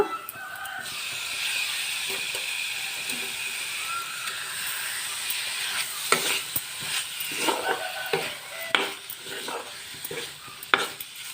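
Prawns frying in an open pan with ginger: a broad continuous sizzle, interrupted by scraping stirs and clatters of a spoon against the pan, loud and close.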